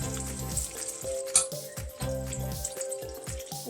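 Steaks sear in butter in a hot pan, a loud, close sizzle with crackling spatter that swells and dips as the meat settles, with no talking.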